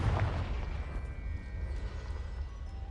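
A Confringo fire-blast spell in Hogwarts Legacy bursts at the start with a deep booming explosion, then a rumbling fiery tail fades under steady game ambience.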